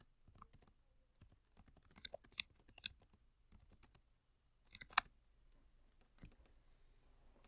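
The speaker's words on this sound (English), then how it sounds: "Keep deleting stuff as I'm typing." Scattered clicks and taps of a computer keyboard being typed on, close and quiet, in irregular bursts with pauses between, alone without talk.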